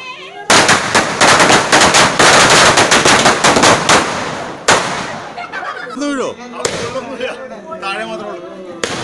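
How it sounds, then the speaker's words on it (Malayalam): Fireworks crackle in a rapid, loud barrage at a family Christmas celebration, with rattling bursts and bangs, then sparser pops, whistles and cheering voices. "ഇനി ചെറിയൊരു വെടിക്കെട്ടുണ്ട്."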